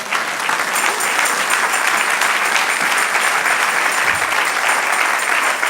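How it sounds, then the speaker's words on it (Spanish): A church congregation bursts into loud, continuous applause, a dense unbroken wash of clapping that holds steady throughout. "Denle un aplauso al Señor"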